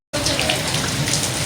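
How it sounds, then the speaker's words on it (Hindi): Steady first rain of the season pours down in Karachi after an abrupt start, a dense hiss with scattered droplet patter, close and loud. "कराची की पहली बारिश"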